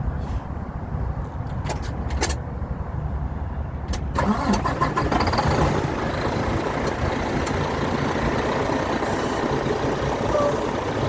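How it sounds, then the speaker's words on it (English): A semi truck engine cranks and catches, then settles into a steady, loud rumbling idle heard close by with no talking. "I'm going to start my truck up"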